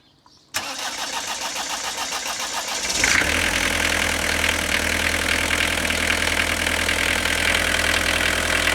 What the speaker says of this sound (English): So we're going to start the car now.